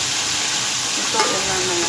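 Pork steak sizzles and hisses steadily in a hot frying pan, a constant bright crackle, with a faint voice murmuring briefly partway through.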